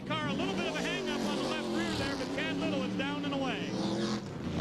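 A NASCAR Busch Series race car, Chad Little's No. 30 at the 2000 Auto Club 300, pulls away from pit road with a loud, rising engine whine. Other engines drone around it as a commentator talks over the noise.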